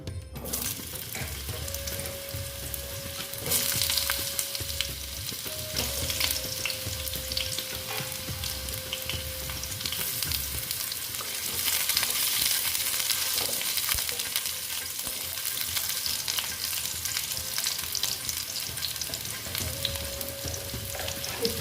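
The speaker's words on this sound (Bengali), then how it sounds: "এখন আমি দেখো এখানে আলুগুলো ভেজে নিচ্ছি" Potatoes frying in a pan for a vegetarian soybean dish, a dense, steady crackling sizzle that holds for the whole stretch, fairly loud and close, with no voices over it.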